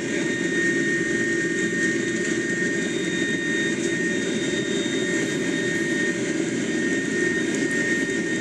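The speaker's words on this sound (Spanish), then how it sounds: "Bro, también estas turbinas se escuchan muy épico." A turbocharger spools up with a loud, steady high whine and rushing air over a constant engine drone, sustained with no talking.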